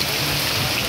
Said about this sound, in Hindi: गिरती पानी की बूंदों ने तो जैसे माहौल को और हसीन बना दिया।